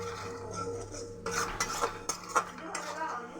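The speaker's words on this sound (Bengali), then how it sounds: "ভালো করে মশলাটাকে কষিয়ে নিতে হবে" A spice paste for banana-flower mocha is stirred in a pan, a spoon clattering and scraping against the metal in a few quick strokes over a low background hum, short and close with no voices.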